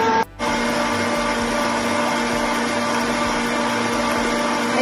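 An electric mixer beats 750 grams of room-temperature butter at medium to high speed, giving a loud, steady whirring drone with one brief dip near the start before running on evenly.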